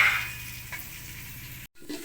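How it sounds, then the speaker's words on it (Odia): Onions sizzle in a frying pan of oil on a stove, a steady crackling hiss that starts loud and settles, with a short cut partway through. "ଦେଖନ୍ତୁ ଏବେ ପିଆଜ ପଡ଼ିଲା।"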